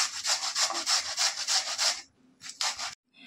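Potatoes rubbed against a hand grater for potato pakoda, a steady run of rhythmic rasping strokes, then a short pause, a few more scrapes and a last brief stroke, close and clear with no talking.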